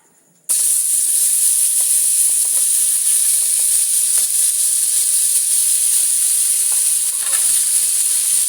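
Tomatoes drop into a hot frying pan for chutney and burst into a loud, steady sizzle, a bright continuous hiss with faint crackles that runs unbroken after a brief quiet start.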